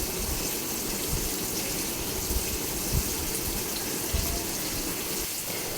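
Shrimp frying in a pan give a steady, dense sizzle, a continuous watery hiss with faint crackles throughout and no voice over it.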